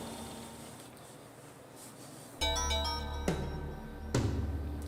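A phone rings before dawn in the Kara no Shoujo video game, sharp electronic ringing tones starting abruptly after quiet ambience, repeating a few times at moderate volume.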